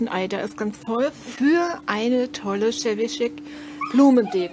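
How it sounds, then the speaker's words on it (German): A dog whimpers and yips in a steady, insistent whine, wanting to play football, running beneath continuous speech from a person nearby. "Das ist unser Hund"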